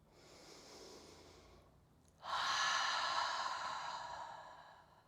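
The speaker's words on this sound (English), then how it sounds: "Give yourself a cleansing breath." A person takes a deep cleansing breath during a yoga session: a soft inhale, a brief pause, then a long, airy exhale that swells and fades, close and clear, with no talking.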